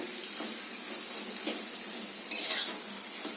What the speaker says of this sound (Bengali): এবার ভালো করে আলুটার সাথে পেঁয়াজ লঙ্কা কুচানোটা খুব সুন্দর করে এটাকে কষবো